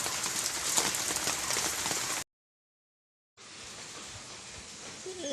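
Rain falling steadily beside a village pond, a dense, even hiss that breaks off into about a second of silence, then resumes slightly softer.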